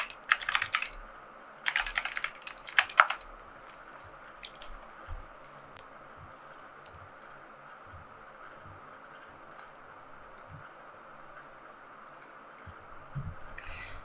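Computer keyboard typing in two short bursts near the start, crisp close clicks with pauses, then mostly quiet low hum with a few faint stray taps and a small clatter at the end.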